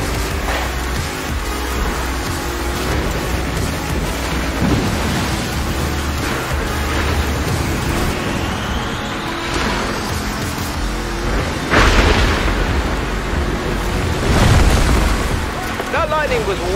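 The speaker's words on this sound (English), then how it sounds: "Lightning was way too close." Thunderstorm in the racing game Forza Horizon 4, with heavy rumbling thunder and a sharp close lightning crack over constant rain-like noise and a driving car, several booming bursts rising above the steady roar.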